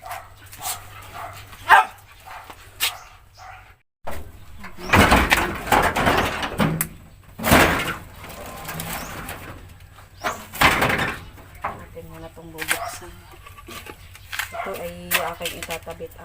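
Two pet dogs at a rural Filipino home bark in short, scattered bursts amid door and household clatter, with someone talking over parts of it.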